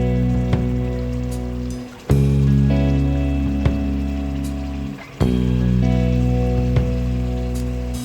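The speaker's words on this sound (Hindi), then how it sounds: "अब मैं इस वक्त इसमें दही डालने लगी हूँ" Four to five tablespoons of yogurt go into meat frying for kharay masalay ka gosht, raising a steady, loud sizzle over a constant low hum that briefly dips twice.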